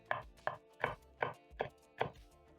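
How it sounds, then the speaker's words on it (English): A knife slices a single green chili on a board in six evenly spaced, crisp taps. They are quiet and close, with short silences between the cuts. "Slice one green chili"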